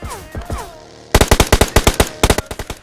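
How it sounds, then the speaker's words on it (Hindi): Rapid bursts of loud automatic gunfire in a video game, a dozen sharp shots in quick succession after a brief quieter stretch with faint tones. "सामने से मुझे गोली चलने की आवाज़ आती है"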